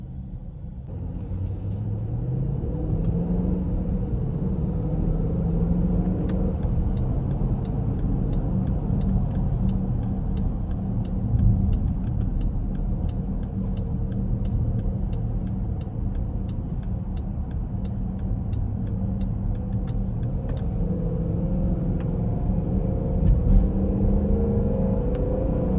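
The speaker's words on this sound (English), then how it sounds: "Just a great sound from that engine." A 2020 Dodge Durango R/T V8 engine rumbles steadily and loudly throughout, with a deep, continuous drone that rises and falls slightly as the revs change.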